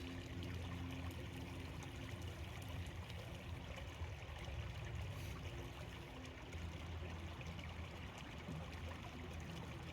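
Water and rocks swirl steadily in a gold pan during outdoor prospecting, a faint continuous sloshing and trickling with no pauses.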